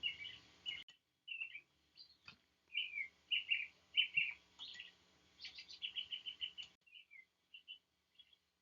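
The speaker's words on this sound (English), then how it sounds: "Many unique birds sing in unison." Several birds sing in a dense forest: bright, high chirps and short trilled phrases in clustered bursts with brief gaps, fairly close and clear against a quiet background.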